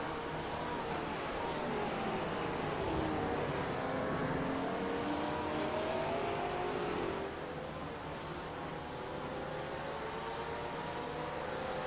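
A Porsche GT3 race car engine in a sim racing game at Fuji, a steady high-revving drone with gear changes and other cars sweeping past, fairly quiet and without talking.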